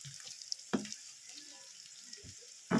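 Hotdog frying in a pan for a sizzling egg dish, a soft steady sizzle with occasional utensil knocks and clatters, faint and close, with brief low speech in the background.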